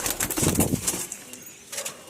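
Pigeons in a loft coo in soft, throaty bursts close by, with a wing flutter or scuffle toward the end and no talking.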